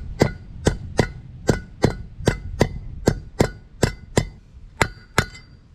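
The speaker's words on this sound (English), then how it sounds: "we need to knock this new race in" A new wheel bearing race is hammered into a caravan hub on a Jayco Expanda Outback 2 tonne axle: about thirteen sharp, ringing metallic blows at a steady pace, close by, with no talking.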